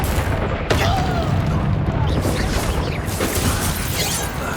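A Bombarda spell explodes in Hogwarts Legacy, a loud broadband blast bursting in near the start over dense, continuous game combat noise, with further crackling impacts following.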